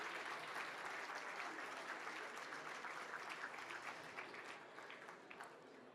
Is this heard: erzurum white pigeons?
no